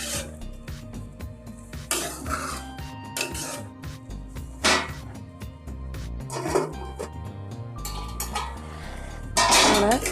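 Avial with curd being stirred in a pot in a home kitchen, with repeated metal scrapes, clinks and clatters of utensil against the pot and lid, close and fairly loud, with no talking.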